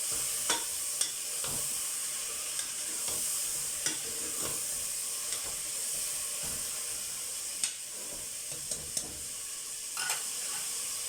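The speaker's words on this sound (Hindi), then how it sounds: "अब ये टमाटर और गोश्त और लहसुन अदरक का पेस्ट मैं इसमें डालूँगी और इसको थोड़ी देर मिक्स करूँगी।" Mutton with tomato and ginger garlic paste frying in a pan gives off a constant hissing sizzle, while a spoon scrapes and taps the pan now and then, close and moderately loud.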